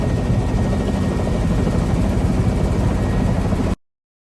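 Steady, loud rotor and turbine roar of a New York City tour helicopter as it comes in to land, continuous with thumping low-end blade chop, cutting off abruptly at the end.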